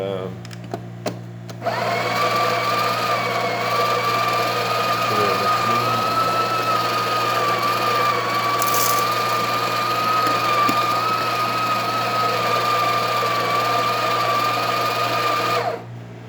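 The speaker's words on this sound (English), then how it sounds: "Instead of adjusting the grinder finer, I'm going to add a little more coffee. This way this will stress the grinder a little less." A Breville Barista Express espresso machine's built-in coffee grinder, recently repaired, grinds beans in a steady, loud, high-pitched whirring drone for about fourteen seconds before stopping abruptly, with brief clicks just before it starts.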